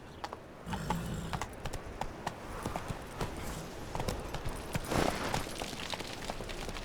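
Horse hooves clip-clop at a steady gallop in The Witcher 3, rhythmic and close over a continuous ambient game background, with brief speech-like sounds mixed in.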